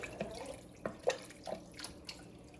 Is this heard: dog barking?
no